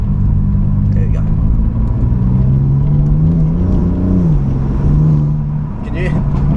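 A BMW M4 Competition with 510 bhp, set to Sport Plus, drones loudly from inside the cabin as the engine pulls and the pitch rises and dips, with a continuous rumble throughout.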